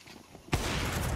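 A sudden burst of Counter-Strike 2 gunfire erupts after a quiet moment, then continues as a dense, sustained rattle of shots during a competitive match.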